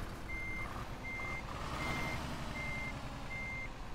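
Reversing beeps from a Scania truck coupling a trailer in Universal Truck Simulator, five evenly spaced electronic beeps over a steady low engine rumble, clear and close.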